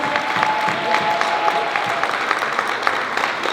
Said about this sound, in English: Let us clap for Mr. Bazia